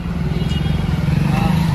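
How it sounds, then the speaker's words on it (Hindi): A motorcycle engine idles outdoors in Sangrur, giving a steady, close, low rumble that continues without a break for the whole moment. "तो ये रहा साहिल का मोटरसाइकिल"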